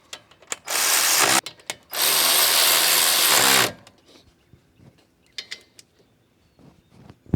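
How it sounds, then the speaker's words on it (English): A ratcheting socket wrench retorques brake bolts on a car's front brakes, giving two loud sustained bursts of mechanical whirring, then quieter scattered clicks and clinks of tools nearby. "grab the right size socket to retorque them down"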